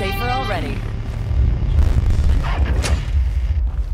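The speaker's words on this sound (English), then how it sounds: "I got nailed by the plague heart explosion." Plague heart explosion in State of Decay 2: a deep booming blast and rumbling aftermath, loud and close, with a voice talking over the start.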